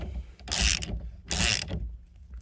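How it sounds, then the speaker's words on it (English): A ratchet tightens the steering wheel nut on an NA Miata during an NRG steering wheel install, heard as two loud clicking bursts about a second apart with quiet between them. "now we are gonna torque the steering wheel nut back on"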